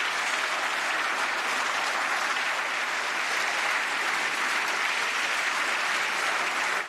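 Sustained applause from members of the European Parliament fills the chamber, a dense steady clapping that holds evenly throughout without speech.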